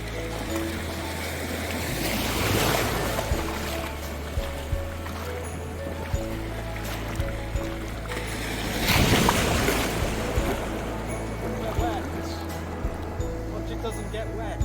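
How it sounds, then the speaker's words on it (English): Waves wash onto Benaulim Beach in South Goa, a broad steady roar with two louder surges, while people talk nearby throughout. "this beautiful beach where he lives"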